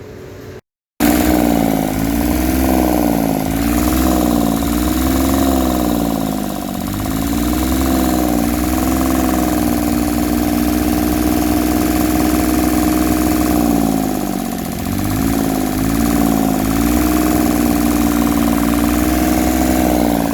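A repaired junkyard welding generator engine runs steadily and loudly close by, with a rhythmic, slightly wavering mechanical drone that keeps going after a brief silent start, and nobody speaks.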